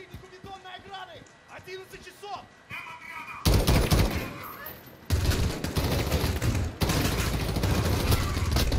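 Rapid gunfire bursts from Call of Duty: Modern Warfare campaign combat, loud sustained volleys beginning a few seconds in and continuing to the end, with voices talking early on.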